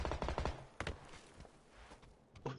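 Gunfire from the PlayStation 5 battle-royale game PUBG: a rapid burst of several shots at the start, followed by a few more separated cracks and a final burst, all fairly quiet against a low background.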